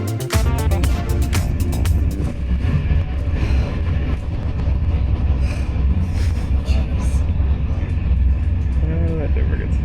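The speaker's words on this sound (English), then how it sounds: "Train just arrived." A train arrives at a station in a Dutch city with a loud, continuous rumble of wheels and engine. Rapid clattering marks the start, and a brief squeal comes near the end.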